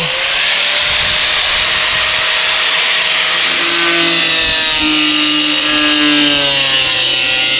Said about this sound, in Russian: Режем мы обычной болгаркой диск по